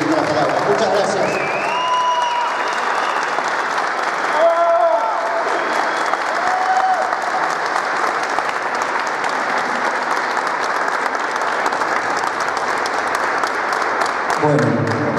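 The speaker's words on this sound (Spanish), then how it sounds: "para él pido un aplauso" A large crowd at a political rally proclaiming a candidate claps loudly and continuously for about fifteen seconds, a dense, sustained roar of hands with occasional shouts and whistles rising above it.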